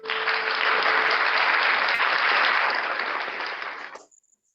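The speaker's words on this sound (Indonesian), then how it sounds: "Boleh minta tepuk tangannya untuk Mas Fihirudin" A crowd breaks into warm, sustained clapping at a book launch after a poetry reading, filling the room evenly for about four seconds before quickly dying away.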